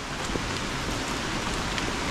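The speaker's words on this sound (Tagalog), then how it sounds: "Buti na lang, hindi masyadong malakas yung ulan." Light rain falls in the mountains as a steady, dense patter of drops on surfaces, continuous and fairly close, with no voices.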